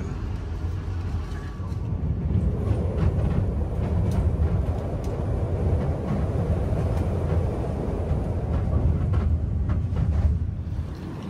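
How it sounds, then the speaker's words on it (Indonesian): Interior of the Pasundan passenger train departing Lempuyangan station in Yogyakarta on a crowded long weekend, a steady low rumble of the rolling carriage with faint rattles and clicks throughout. "sekarang kereta Pasundan sudah berangkat dari stasiun Lempuyangan ya"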